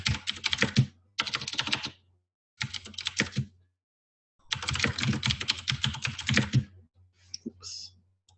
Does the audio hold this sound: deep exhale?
no